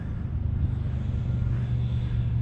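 Steady low engine rumble of passing vehicles, a car and a motorcycle going by close, continuous with no talking.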